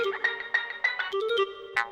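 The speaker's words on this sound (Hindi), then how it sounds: "बाबूजी, फोन बज रहा है आपका।" A phone rings with a bright, repeating melodic ringtone, quick tonal phrases sounding close and clear with no voices.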